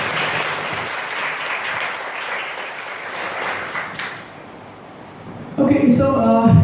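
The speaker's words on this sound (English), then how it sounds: "please give a huge round of applause, everyone" Dense applause from a college audience at an entrepreneurship cell's first event of the year, a steady wash of clapping that thins briefly before a voice comes in over the tail.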